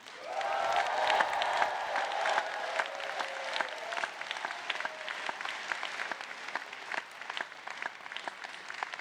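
Graduation ceremony audience for the Stanford GSB MBA, MSx and PhD Class of 2025 breaking into loud applause, with whoops and cheers at the start. The sustained clapping fades slightly but carries on for several seconds.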